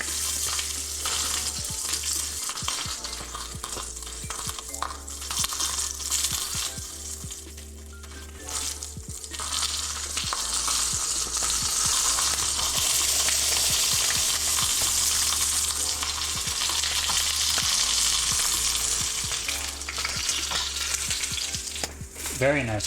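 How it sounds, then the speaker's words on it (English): Chimichurri flank steak and broccoli sizzle loudly in a hot pan, a dense, steady crackling hiss that goes on throughout with occasional stirring clatter and scrapes. "There's your sizzle though."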